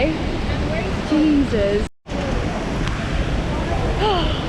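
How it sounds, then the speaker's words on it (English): A rainforest waterfall near La Fortuna, Costa Rica, gives a constant broadband roar underneath, while voices speak over it and a brief dropout breaks the sound midway. "Rainforest, waterfall."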